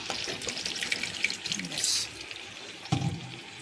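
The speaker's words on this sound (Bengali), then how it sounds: "পরিমাণ মতন একটু জল দেবো" A little water poured into a pot for potato biryani, soft trickling splashes up close, with a short burst near the start and another toward the end, against quiet kitchen background.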